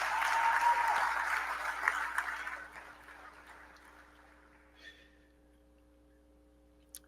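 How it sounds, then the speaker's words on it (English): Audience round of applause at a gathering, a crowd clapping briskly at first, then thinning and fading away over several seconds into near quiet, with a few scattered claps at the end. "give yourselves a round of applause"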